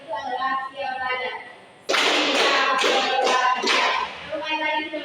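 A group of young students claps five times together in a classroom session, five crisp, evenly spaced claps, near and loud, with a voice speaking just before and after the claps.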